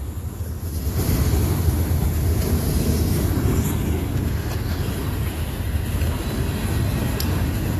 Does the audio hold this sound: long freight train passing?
yes